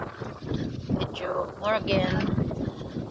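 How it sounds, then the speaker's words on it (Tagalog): Gusty wind buffets the microphone outdoors on a cold autumn day, a steady rushing roar that swells and eases, with a voice speaking over it. "Medyo windy."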